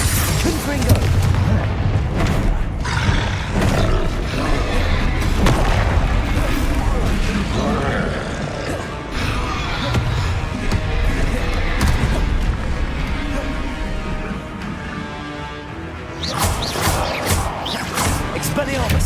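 Confringo blasting-spell explosions in Hogwarts Legacy, a run of loud booming blasts and crashing impacts layered over busy combat noise, with a sharp cluster of bangs near the end.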